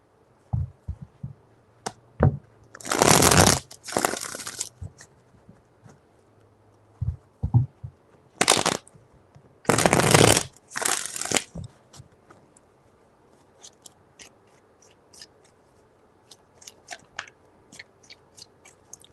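A deck of tarot cards is shuffled in a few brisk, close riffling bursts separated by quiet pauses with light taps and handling noises, and no one speaks.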